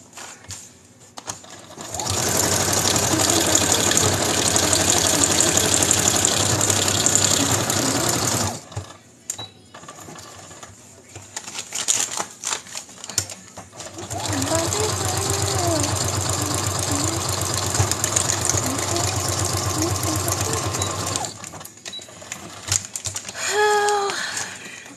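A sewing machine stitches custom Franken-paper for a junk journal in two long, loud runs of rapid mechanical whirring and patter, separated by quieter pauses with small handling sounds.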